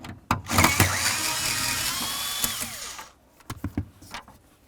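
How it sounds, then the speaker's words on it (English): Power drill or driver whirring steadily for about three seconds while backing out dash panel bolts on a 2003-07 Chevy Silverado, preceded and followed by short clicks and knocks of the tool and panel, close and fairly loud. "We're going to remove those so we can get this panel off of here."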